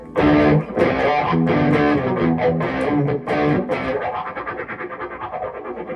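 Distorted electric guitar chords through a vibe effect pedal with a TonePrint setting, a swirling, throbbing modulation, loud and continuous, ringing out and fading slightly toward the end.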